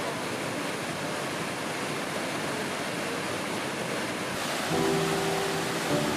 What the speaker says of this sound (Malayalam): കുതിച്ചൊഴുകുന്ന ജലപാതം മഴക്കാടുകളുടെ രൗദ്രഭാവം മുഴുവൻ